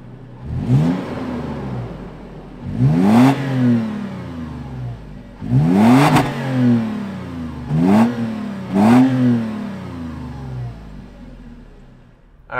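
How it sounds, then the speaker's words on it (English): Toyota 2021 4Runner TRD Pro V6 with a cat-back exhaust fires up, then gives five sharp revs, each a rising roar falling back to a deep idle rumble, loud and near. "Why don't we fire it up and hear what this V6 sounds like?"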